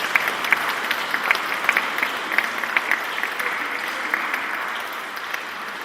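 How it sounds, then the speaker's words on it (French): Sustained audience applause fills a lecture hall after a talk on the Spanish Renaissance, dense steady clapping with no voices over it. "on peut encore applaudir, je crois, Philippe, pour..."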